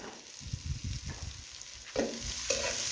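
Pimento, onion and garlic fry in a pan for a breadfruit oildown, giving a steady close sizzle broken by scraping stirring strokes and a couple of sharper clatters of the spoon.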